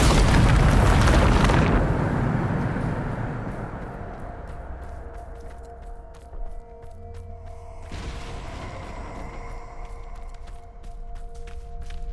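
A Bombarda spell in Hogwarts Legacy detonates with a loud, close boom that rumbles and fades over several seconds, followed by a second, softer burst of crackling debris.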